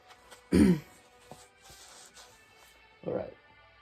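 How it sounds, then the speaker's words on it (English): Two close throat clears in a quiet room, a strong one followed by a softer one a few seconds later, with faint small noises between them. "Gotta clear my throat."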